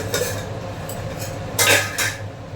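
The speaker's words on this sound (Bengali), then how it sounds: "চিংড়ি মাছ দিয়ে আর একটু ঢাকা দেবো ঢাকাটা খুলছি আমি" A lid lifted off a cooking pot of pointed gourd and prawn curry, giving a couple of close metallic clanks and a brief scrape over a steady low kitchen hum.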